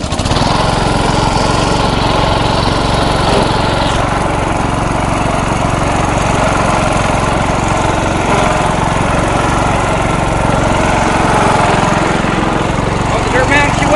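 An offroad lawnmower's engine drones loud and steady as it climbs dirt mounds on an obstacle course, a continuous close mechanical roar with little variation throughout.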